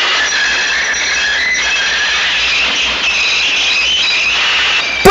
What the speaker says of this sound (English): Her driver applied the brakes.